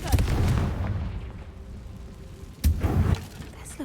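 A Confringo fire spell explodes in the Hogwarts Legacy video game, two loud blasts with crackling bursts, the first at the start and a second sharper one near the end, over a rumbling game soundscape.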